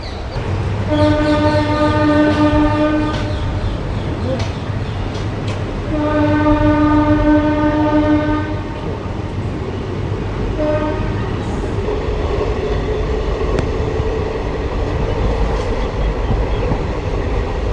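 The Satluj Express, running from Ferozepur to Chandigarh, speeds along the rails with a loud continuous rumble and rattle, its horn sounding in two long blasts and a short third one.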